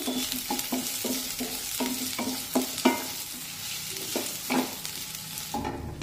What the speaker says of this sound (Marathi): त्यामध्ये एक उभा पातळ चिरलेला कांदा टाकूया आणि कांदा छान तांबूस रंगावर भाजून घेऊ